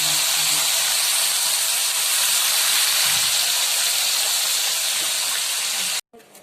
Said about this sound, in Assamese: মাছটো এটাকৈ ভাজি ল'ব লাগিব